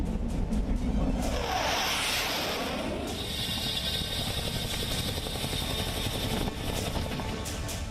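Chinook helicopter at the Leh airbase, a loud, continuous rotor and turbine roar that holds steady throughout with a sweeping whine rising early on.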